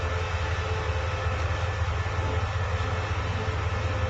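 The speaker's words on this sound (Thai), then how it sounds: "นี่คือหัวจักร รถไฟนะพี่น้อง" A train locomotive at Ubon Ratchathani railway station gives off a steady, loud mechanical drone with deep low rumble and broad hiss, unbroken and without voices.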